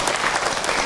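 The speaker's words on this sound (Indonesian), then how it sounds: "tepuk tangan buat Aiman." Audience at an Islamic religious lecture breaking into a short, loud round of clapping for a participant, with no talk over it.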